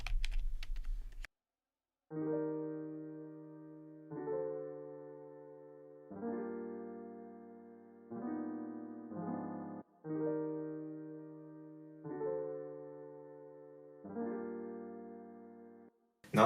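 A keyboard plays a smooth R&B 6-5-1 progression of seventh chords including a dominant seventh, each struck chord ringing and decaying over about two seconds, with a quick two-chord change midway.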